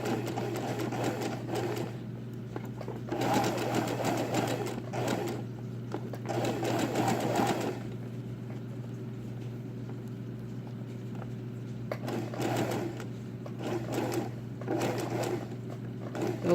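A sewing machine stitching a centered zipper runs in steady, fairly quiet bursts of rapid needle chatter, with short pauses between runs.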